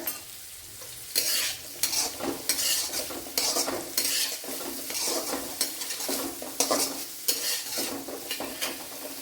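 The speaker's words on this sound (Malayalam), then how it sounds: "സവാള പെട്ടെന്നൊന്ന് വഴണ്ടി കിട്ടാൻ വേണ്ടിയാണ് ശകലം ഉപ്പിട്ട് കൊടുക്കുക" Sliced onions sautéing with a pinch of salt in a pan for egg masala, stirred in repeated scraping strokes over a steady close sizzle, with no talking.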